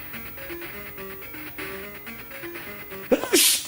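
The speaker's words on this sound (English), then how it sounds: "Sneezing." A single loud, close sneeze bursts out near the end over a video game's engine-like tones and background music, with a quick intake of breath leading into it.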